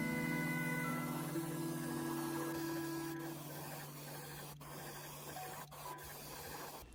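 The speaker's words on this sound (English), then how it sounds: "airbrushing is like magic" An airbrush hisses as it sprays paint onto a small LPS crouching cat figure. The compressor hums underneath throughout, and short bursts of spray come and go over the quiet, close hiss.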